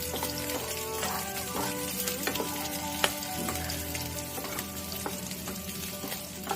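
Prawns frying in a pan for chingri dopeyaja, a steady close sizzle running throughout with a few scattered clinks and scrapes, no voices.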